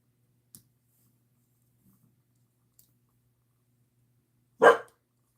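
Blue heeler dog gives a single sharp bark near the end after near silence, with a few faint clicks beforehand.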